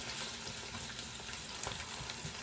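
Food browns in a pan on a stovetop burner over medium-high heat, a dense continuous sizzle and crackle filling the whole stretch at close range, without any talking.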